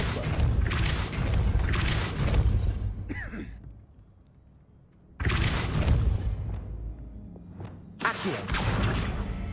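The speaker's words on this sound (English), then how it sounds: "That looks as if it might raise the gate." In the Hogwarts Legacy game on PS5, a heavy gate mechanism rumbles and grinds with booming, creaking bursts. Two loud stretches are split by a quieter gap of a few seconds.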